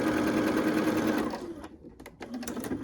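A sewing machine stitches nested quilt pieces together, a loud steady motor whir that cuts off partway, followed by a few short stop-start bursts of stitching.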